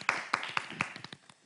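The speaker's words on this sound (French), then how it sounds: "Applaudissez pour lui" A handful of audience claps at a French evening show, sharp near slaps in an uneven rhythm that thin out toward the end, over a faint background murmur.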